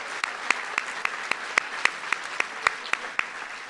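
Steady applause from an audience at a senior awards night, honoring donors and presenters, with sharp individual claps standing out over a continuous dense patter throughout.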